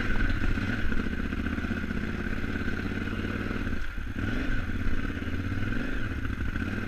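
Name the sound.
KTM 950 motorcycle riding through deep ruts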